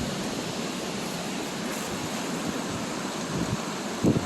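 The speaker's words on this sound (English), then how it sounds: "We got a raging river. Look at this river. It's so swollen." A swollen, raging river in North Vancouver rushes during a massive windstorm, giving a steady, loud broadband roar of water and wind throughout, with a brief thump near the end.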